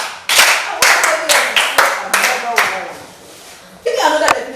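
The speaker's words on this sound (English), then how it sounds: "Please give her a sound clap." Brief bursts of hand clapping for a student in a classroom, several quick sharp claps in uneven rhythm, close and loud, with a short pause before a final burst.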